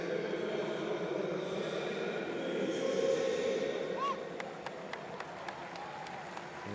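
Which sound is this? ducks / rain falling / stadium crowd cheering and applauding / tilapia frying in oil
stadium crowd cheering and applauding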